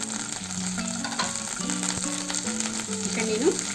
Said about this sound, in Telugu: Half spoon ginger garlic paste వేసుకోవాలి. కొద్దిగా ఫ్రై చేసుకొని